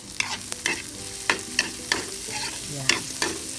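Onion, shrimp and garlic sauté in a pan for ginisang monggo, with repeated sharp scraping stirs clacking against the pan over a soft continuous sizzle, close by and without talk.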